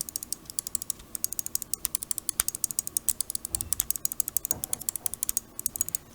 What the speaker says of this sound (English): let's drop a sound test for you guys so you guys can hear these clicks